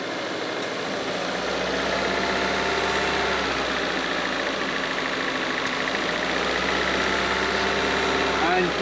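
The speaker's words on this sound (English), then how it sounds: "just listen to the engine" Nissan March Super Turbo engine idling with a hose pulled off the intake, a steady, close, rumbling idle with slight unevenness throughout.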